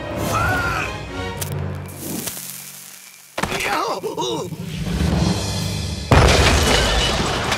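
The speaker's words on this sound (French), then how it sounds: "Retournez les canons et ouvrez le feu sur cet homme masqué." Cannons fire in a French-dubbed animated Zorro series: heavy booming thuds and crashing impacts ring out in separate bursts, with cartoon sound effects and action noise between them.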